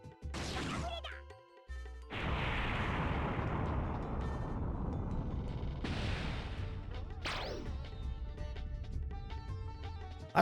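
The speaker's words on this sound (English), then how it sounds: "I feel like that many giant flaming rocks flying at you would do more than one chunk of damage" Giant flaming rocks rain down in a spell attack in Breath of Fire IV, first a short whoosh, then a long stretch of heavy, crashing impacts and roaring blasts. A sweeping whoosh follows near the end, with no talk.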